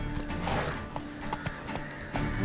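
A horse clip-clops at a steady gallop in The Witcher 3, rhythmic hoofbeats close and clear over an ambient game soundscape.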